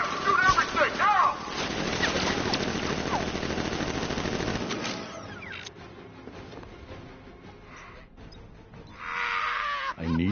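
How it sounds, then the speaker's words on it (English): Militia machine gun fire in Batman: Arkham Knight comes as a dense, sustained stream of rapid shots for several seconds, then gives way to quieter scattered noises, with voices speaking during the fight. "Open fire! Shoot everything, now!"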